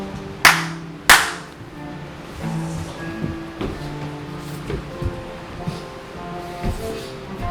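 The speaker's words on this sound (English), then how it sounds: "No doubt you're sleeping, but Baba clapped." Two sharp, loud hand claps in quick succession from a performer in a stage play, followed by quieter stage noise and light rustling.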